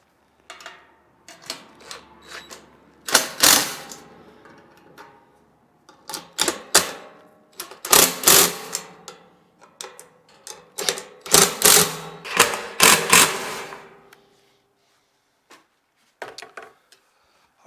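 A ratchet fitted with a 13 mm socket tightens bolts on a folding hitch-mount cargo carrier, giving bursts of rapid clicking strokes in close, loud runs separated by short pauses.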